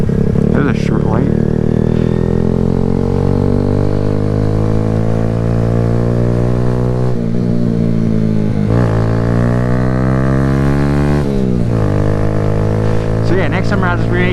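A Kawasaki Z125 stunt-build motorcycle is ridden, its engine droning loudly and steadily up close, with the pitch rising and falling as the throttle changes and a few brief dips.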